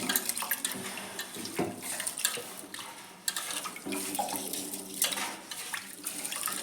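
Rice being rinsed under running tap water in a home kitchen, a steady close gush and splash with sloshing surges as the grains are swirled, continuous throughout with no talk.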